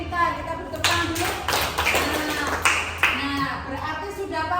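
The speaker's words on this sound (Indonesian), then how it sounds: "Kita beri tepuk tangan dulu." Students applauding in a classroom, a burst of scattered close hand claps with irregular sharp slaps, mixed with children's voices chattering.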